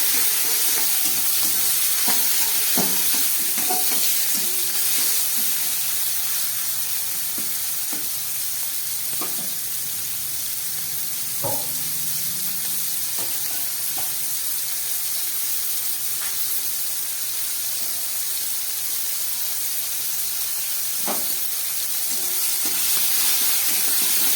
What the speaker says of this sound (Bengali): চিংড়ি মাছটাকে ভেজে নিলাম।